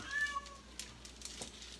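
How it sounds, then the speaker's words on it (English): A cat meows a few times in the background, faint and somewhat distant, with brief soft bumps and no one speaking. "That's my cat you're hearing in the background."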